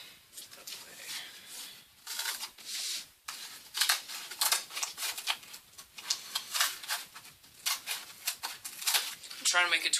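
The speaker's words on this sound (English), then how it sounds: "I'm going to cut out another strip" Scissors snip through a strip of material for a Hayabusa helmet build in a quick, irregular series of crisp cuts close to the microphone, with a few brief pauses between runs of snips.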